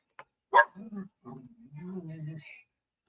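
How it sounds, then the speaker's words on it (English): A dog gives a sharp bark followed by low whimpering and grumbling sounds, fairly faint in an otherwise quiet space. "Y'all hear the dogs?"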